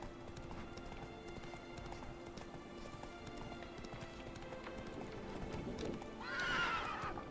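Roach the horse from The Witcher 3 clip-clopping along in a steady gallop, with a loud neigh near the end, under a faint background bed.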